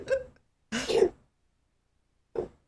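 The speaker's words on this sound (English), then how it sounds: "She's having a coughing fit." Three short, harsh coughs come in quick bursts separated by pauses, close by, with no talking.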